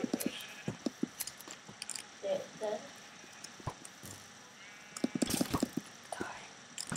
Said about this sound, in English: Where did all these sheep come from?